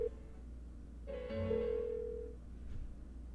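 A phone in Persona 4 Golden rings on with no answer, a soft electronic ring tone rising over a low steady hum and then trailing off, quiet and without voices.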